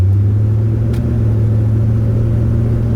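A 1974 Chevrolet Corvette with a 454 LS4 V8 and automatic transmission, heard from inside while driving: a loud, steady, deep engine rumble with a low droning tone, continuous and without talk.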